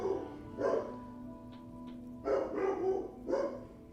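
Several dogs barking in the video game Disco Elysium, three loud bursts of barks with a short gap between them, close and clear with no talking.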